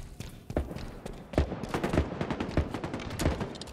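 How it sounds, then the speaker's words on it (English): Machine gun fire in Halo Infinite multiplayer: sharp, rapid shots crack out in uneven bursts, loud and close, with short gaps between volleys. "Machine guns suit you, Spartan."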